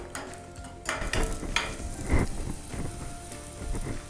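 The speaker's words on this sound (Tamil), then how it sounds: "அதுக்கப்புறம் வெங்காயத்தை நம்ம நல்லா வதங்க விடணும்" Onions sauté in a pan over a medium flame for a curry, a close, steady sizzle and crackle with occasional scraping stirs.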